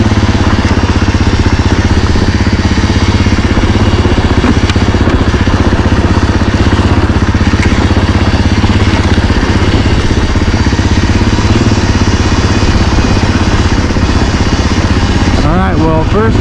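A 2024 Husqvarna FE450 dirt bike engine drones steadily and loud while riding downhill, a continuous close mechanical roar with clatter throughout and a brief rising rev near the end.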